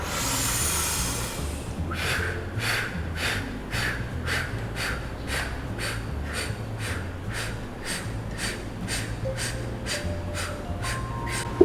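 A slow, deep breathing exercise for stress relief: a long full inhale followed by a series of regular, evenly spaced breath pulses, close and fairly quiet, with no talking.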